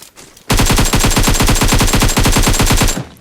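Rapid automatic gunfire in a solo-versus-squad battle royale match, one loud sustained burst of evenly spaced shots lasting a few seconds, with no talk.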